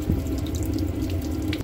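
Water drains steadily from a motorhome's hot water heater during winterizing at a storage facility, a continuous close rushing flow that holds an even level throughout with no talking.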